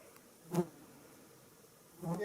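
Insects buzz close by on a lakeside trail at Frontenac Park, two short passes drifting near the microphone over quiet outdoor background.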